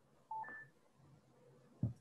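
Telephone keypad dialing tones while calling a call center: two short, clear tone beeps in quick succession near the start, then a brief low thump, with no talking.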